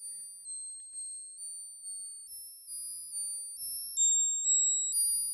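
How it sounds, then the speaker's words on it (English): Bright tones from a Behringer Neutron synthesizer Krell patch hop between random pitches in a steady pulsing rhythm, each note swelling and fading, growing slightly louder toward the end. "this is the sound of the Krell"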